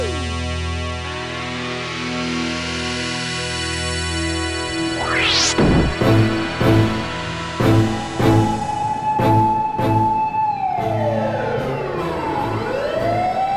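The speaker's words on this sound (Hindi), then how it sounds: "ये तो सच में दमकल का सायरन था" A loud fire engine siren wails and sweeps, then blares in a series of repeated pulses over a low vehicle rumble.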